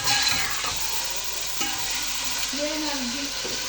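Green chillies and pulao ingredients for a green chana pulao stirred and fried together in a pan, a steady close sizzle with scraping stir strokes, no talking.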